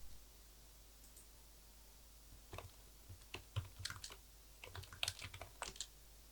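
Soft, quiet keystrokes on a computer keyboard in short irregular bursts, light clicking taps close by with no talking.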